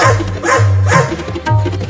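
A cartoon dog barks repeatedly while chasing, sounding close and loud in an even rhythm of about four barks.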